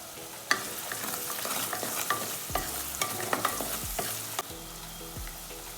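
Sliced onions and four halved green chillies sauté in a hot pan for a mushroom dish, sizzling steadily up close while a utensil stirs and scrapes with sharp clinks every second or so.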